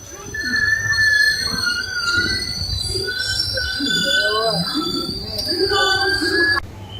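The 12639 Brindavan Express halts at Krishnarajapuram station with loud, sustained wheel squeals and rail noise, high metallic tones rising and falling over several seconds close by.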